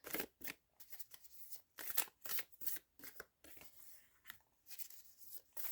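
Tarot cards are shuffled by hand close up, a quiet series of crisp riffling and slapping bursts in an irregular rhythm with short pauses between, and no talking.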